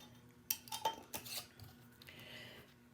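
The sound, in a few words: lid being put on a glass jar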